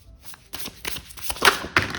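Oracle cards are shuffled and one is drawn from the deck, giving a close run of papery riffles, slides and soft slaps of card against card with no talking.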